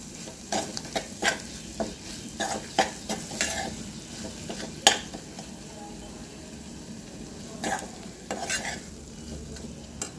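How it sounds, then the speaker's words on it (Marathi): Dry spice masala stir-fried in a pan for jackfruit biryani, a steady soft sizzle broken by repeated scraping strokes of a spoon against the metal, close and fairly quiet. "आता याला छान 2 मिनटं परतून घ्यायचं सुक्या मसाल्याला."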